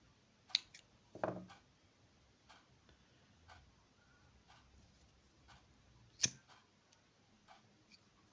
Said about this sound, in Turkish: Önce şu ipliklerini keselim.